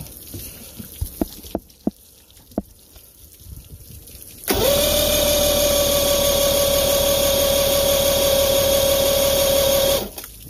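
Mercury 950SS inline-six Tiger Block outboard, suffering a no-spark fault, cranks on a battery-powered starter in a loud, steady whirring drone for about five seconds after a few scattered clicks and taps, then cuts off without firing.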